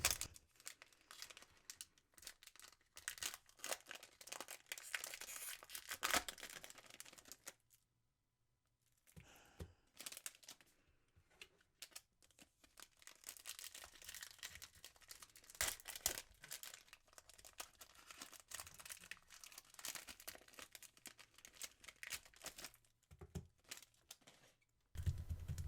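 Plastic wrapping on Magic: The Gathering booster packs crinkles and tears in quiet, close, irregular bursts, with a brief silent pause partway through and no talking.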